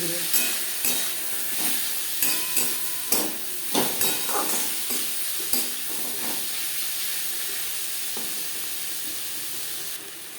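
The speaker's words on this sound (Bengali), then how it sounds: "দু তিন মিনিট পেঁয়াজ টমেটো ভেজে নেওয়ার পর" Onion and tomato fry in a pan for a rui fish curry, a steady loud sizzle and hiss with a series of sharp spatula scrapes and stirs through the first half, then continuous frying alone.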